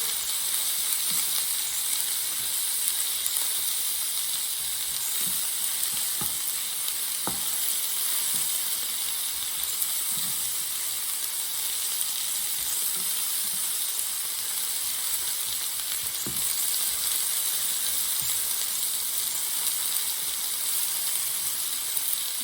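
Cherry tomatoes tossed into a hot pan sizzle and fry steadily until blistered, a continuous bright hiss with occasional small pops and pan taps, close and alone with no voices.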